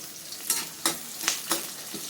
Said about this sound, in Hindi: और अब एक बारीक कटा हुआ प्याज डाल देंगे। प्याज को भून लेंगे।